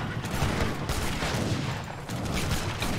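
Dense, continuous booming cannon fire in a video game rumbles without pause, a heavy barrage of overlapping blasts from a battle.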